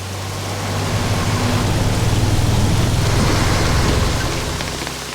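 Heavy rain pours down steadily, a dense, loud wash of drops with a deep low rumble swelling through the middle and easing toward the end, no voices.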